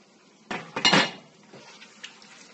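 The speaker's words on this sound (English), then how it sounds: "I'll be adding some diced carrots, some chopped onions, a piece of thyme," Diced carrots, chopped onions, thyme and Scotch bonnet pepper going into a pot of Jamaican curried goat, heard as a short burst of clattering and clinking of utensils against the pot, then quieter scattered knocks, with no talk.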